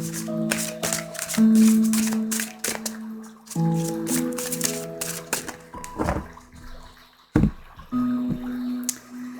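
A deck of oracle cards being cut and handled, heard as quick, close papery flicks and slaps in bursts over soft background music with tonal notes.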